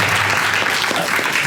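A short burst of dense, loud audience applause fills a hall at a public presentation ceremony, steady throughout with no voices over it.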